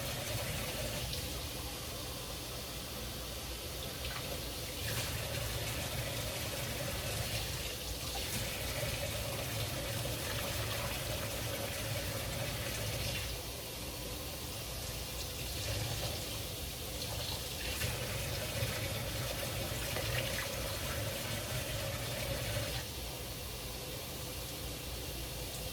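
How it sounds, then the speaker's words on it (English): Water pours steadily into a soup pot for Zuppa Toscana with tortellini, a continuous rushing stream like a running faucet that keeps on for many seconds with slight shifts in tone. "I have to add an extra 4 cups of water."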